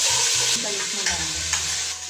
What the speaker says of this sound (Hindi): इसमें एक चम्मच अदरक लहसुन का पेस्ट शामिल करें। इसको हल्का सा फ्राई कर लें।